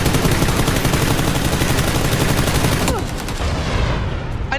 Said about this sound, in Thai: อันนี้คือใครยิงกูวะ